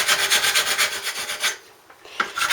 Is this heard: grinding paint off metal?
yes